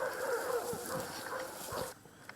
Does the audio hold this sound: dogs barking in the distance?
yes